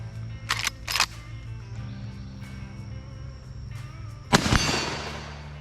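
A Marlin 336C lever-action rifle in .30-30 fires 150-grain jacketed soft-nose rounds, one sharp crack heard outdoors, with brief mechanical clicks and clacks of the action before it.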